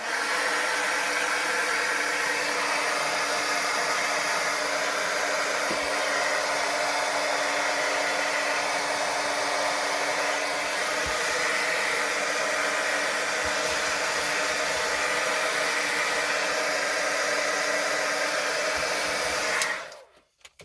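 A hair dryer drying wet watercolor paint blows with a steady, loud whooshing roar for about twenty seconds, then clicks off abruptly.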